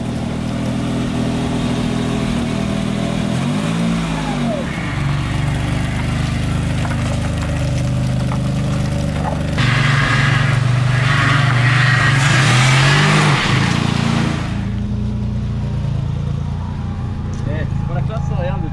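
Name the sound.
DeLorean DMC-12 PRV engine driving and revving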